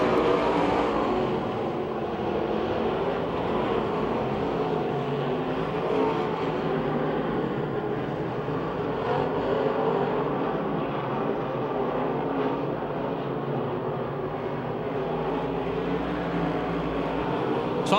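Race cars circling Pennsylvania Motor Speedway near Pittsburgh, a sustained distant roar of engines blending into a continuous droning wash with slight swells as the pack passes, no talk heard.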